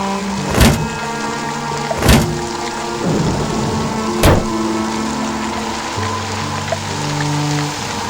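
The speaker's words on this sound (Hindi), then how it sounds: "आसमान में तेज बिजली कड़की और बारिश जो थोड़ी थमी थी, एकाएक फिर झमाझम बरसने लगी।" Audio-drama effect of thunder and heavy rain: three sharp, loud thunder cracks spaced a couple of seconds apart over a continuous rain wash, with sustained musical tones underneath.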